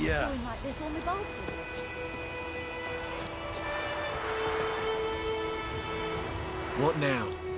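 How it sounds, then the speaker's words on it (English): Rain falls steadily in The Witcher 3: Wild Hunt, a constant hiss of drops on surfaces, while voices speak briefly near the start and again near the end. "Let it rain."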